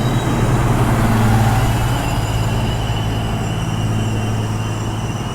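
An old VT 627 diesel train unit at Warszawa Wschodnia station gives off a loud, steady engine drone with a constant hum, unbroken and close, with no voices.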